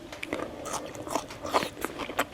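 Close, wet crunching and biting as someone chews sweet bamboo shoots from Phetchabun, likely blanched vegetables eaten with shrimp-paste lime chili dip, with uneven bites and no talking.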